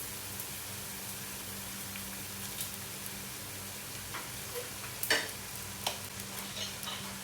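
Cauliflower and sliced mushrooms stir-fry in a pan after soy sauce is added, giving a steady quiet sizzle with occasional clinks and stirring scrapes.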